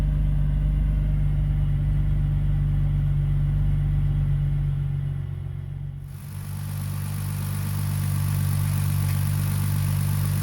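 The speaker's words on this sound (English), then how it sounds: "So right now it's idling without the idle control valve." A BMW E46 engine idles with its idle control valve deleted, a low steady rumble that dips and roughens briefly partway through before settling into a coarser, slightly unsteady idle, no voices.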